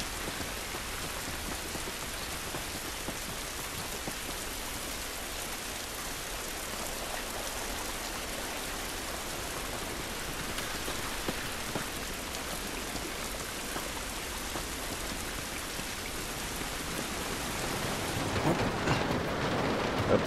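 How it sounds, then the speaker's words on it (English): Steady rainfall in The Last of Us game world, a dense even hiss of drops pattering on surfaces throughout, with a brief louder swell of water noise near the end and no voices. "This rain ain't gonna do us any good."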